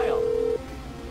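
A mobile phone in the video game GTA V dials a call, giving one steady electronic tone that lasts about half a second and then cuts off, leaving low background game sound.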